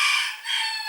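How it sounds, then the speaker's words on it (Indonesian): A rooster crows close by in a village in Majalengka, giving one loud, strained call that fills the short moment, with no talk over it. "vlog urang jadi gandeng, gandeng noise, si teh gandeng suara hayam kakokok"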